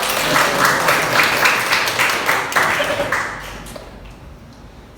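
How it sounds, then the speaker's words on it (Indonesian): A classroom of students claps hands together, a brisk rhythmic burst of applause that gradually fades out over a few seconds. "tepuk tangan kita semua"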